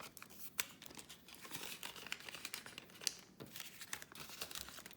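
Paper banknotes, including a 20-euro note, being folded and handled at close range, giving continuous crinkling and rustling with a few sharper crisp snaps, no voices.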